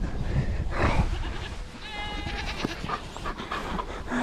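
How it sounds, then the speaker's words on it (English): Goats on a farm bleat several times in close succession, one call standing out with a wavering, layered cry, over steady outdoor background noise with occasional shuffling nearby. "Let's get on the goat congregation."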